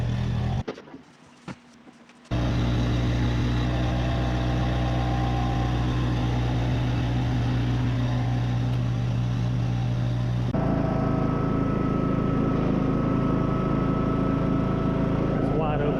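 Engine of a John Deere L100 series riding mower running, with a steady, loud mid-pitched drone that jumps up to wide-open throttle after a brief quiet start and stays strong and close, with someone talking over it.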